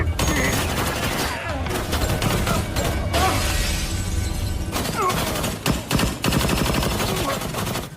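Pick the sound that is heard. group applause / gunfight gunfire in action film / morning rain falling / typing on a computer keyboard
gunfight gunfire in action film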